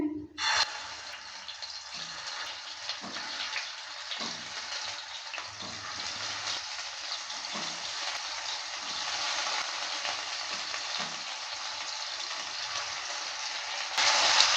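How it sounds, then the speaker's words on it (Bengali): Pea kofta balls, boiled first, drop into hot mustard oil and fry with a loud, steady, close sizzle that holds for the whole stretch and swells slightly near the end. "সরষের তেলটা হিট হয়ে গেছে এবার দিয়ে দিচ্ছি যে বড়াগুলো সেদ্ধ করে রাখলাম সে বড়াগুলো দিয়ে দিচ্ছি"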